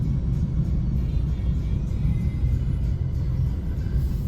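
A continuous low rumble of heavy road traffic in the Philippines at twilight, steady engine and tire noise without pauses, heard from inside or near a moving vehicle.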